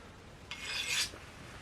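A single light stroke draws a dive knife blade across a stainless steel sharpening rod, making one short, bright metallic scrape lasting about half a second, close and fairly soft.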